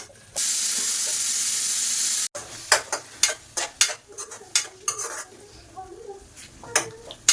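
Tomatoes cooking down in a pan give a loud hissing sizzle at first, then a run of sharp metal clinks and scrapes as a utensil stirs them against the pan.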